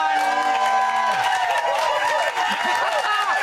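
A studio audience on a ballroom dance talk show cheers, whoops and applauds loudly and continuously, with tonal music playing underneath.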